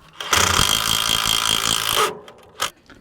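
A wrench works on an elevator during a repair, making a loud, close burst of rapid ratcheting and grinding for about two seconds, then one shorter rasp.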